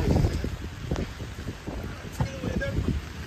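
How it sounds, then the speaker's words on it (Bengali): Strong storm wind gusting outdoors near a parked car by a food market on a rainy day, buffeting the microphone in low rumbling bursts while a voice talks over it. "হাওয়া এখানে ছাতা ধরেই রাখা যাচ্ছে না, প্রচণ্ড হাওয়া।"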